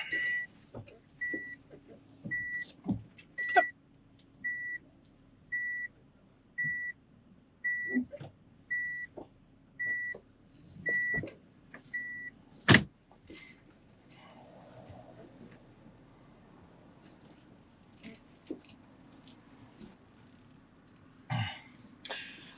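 A vehicle manoeuvring nearby: a steady series of about a dozen evenly spaced reversing beeps over several seconds, with scattered thumps, engine rumble and faint background voices around it.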